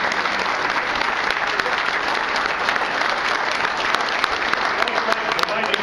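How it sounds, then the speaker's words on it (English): Sustained audience applause at an awards ceremony honoring winners, dense steady clapping from a crowd filling the whole stretch at an even loudness. "Let's give them a round of applause."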